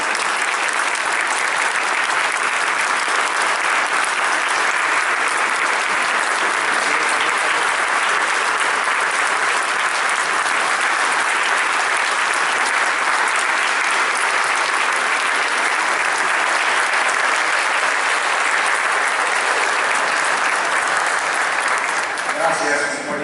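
Strong, sustained applause fills a legislative chamber, a dense, even roar of many hands clapping at once that holds steady and loud for over twenty seconds before easing slightly at the end.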